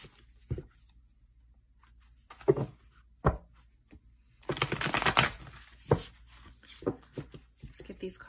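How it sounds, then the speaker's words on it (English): Tarot cards being shuffled by hand, a few soft scattered riffles and taps, then a denser burst of shuffling in the middle, close and fairly quiet, with occasional light knocks. "Let's give these cards a good shuffle."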